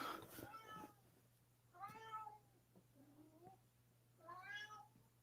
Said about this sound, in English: Can you guys hear my cat meowing?